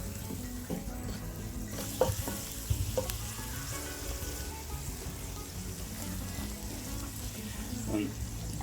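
Paprika sauce and olive oil get stirred together in a Spanish seafood paella pan over a soft, steady sizzle, with a few faint clinks and scrapes of the spoon, all fairly quiet.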